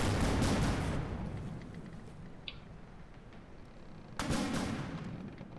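Rockets, shells and machine guns fire at a sinking ship in Minecraft's From the Depths: a loud barrage at the start fades to a rumbling lull with one short high ping, then another heavy burst of gunfire near the end.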